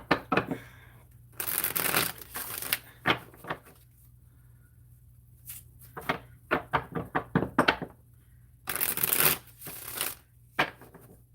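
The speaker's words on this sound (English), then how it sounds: "So I'm like shuffling the cards." Tarot cards being shuffled up close, in several bursts of riffling and soft tapping separated by quiet pauses, with no talking.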